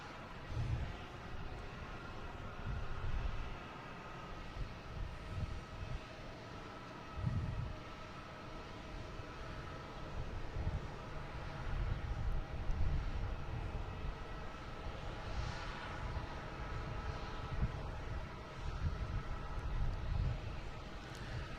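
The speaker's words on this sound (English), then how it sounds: "All right, next coming in we have Iceland Air." Icelandair Boeing 767-300 arriving at Boston Logan, a distant low jet rumble rising and falling with gusty wind noise throughout.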